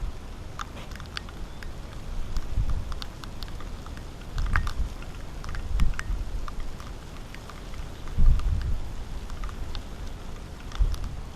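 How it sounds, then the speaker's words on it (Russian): Rain begins to fall outside a house, a steady patter of drops on surfaces with scattered louder splashes and thumps over a soft background hiss. "прямо сейчас, в данную минуту, начинается дождь"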